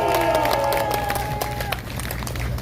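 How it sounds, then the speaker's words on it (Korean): A crowd at a political gathering applauds briefly, a dense burst of clapping with cheers that tapers slightly, with a tone or musical sound heard early on. "큰 박수 한번 해주시면"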